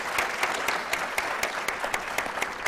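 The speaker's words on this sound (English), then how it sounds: "Let's give them a big hand of applause." Audience applause for a panel at a Sault Ste. Marie Tribe of Chippewa Indians meeting, a full continuous roll of clapping with distinct sharp individual claps standing out, steady and close throughout.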